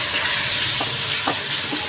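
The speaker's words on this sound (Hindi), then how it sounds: "और अब मैं यहाँ ऐड करूँगी टमाटर और सब्ज़ मिर्चें" Tomatoes and green chillies hit hot oil in a pan of keema masala, giving a steady, close sizzling fry with soft stirring scrapes on top.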